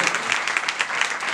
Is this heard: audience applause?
yes